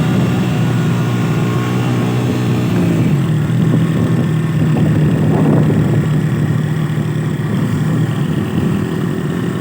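A motorcycle engine drones steadily on a snowy road near Toli Pir in Bagh district, Azad Kashmir, loud and close, with its pitch shifting partway through as it moves past.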